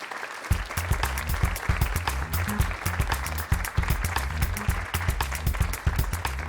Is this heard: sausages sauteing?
no